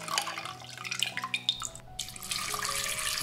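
Soaked lotus seeds being drained of their cold soaking water, with a steady trickle and splash of water running off into a sink, broken by small drips and a brief pause before the pouring resumes.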